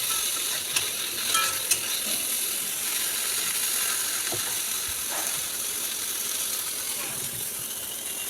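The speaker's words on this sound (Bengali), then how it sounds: "বেগুনটাকে ভেজে নেব আগে" Brinjal frying in hot oil, a continuous soft sizzle and crackle with occasional stirring clicks, alone without talk.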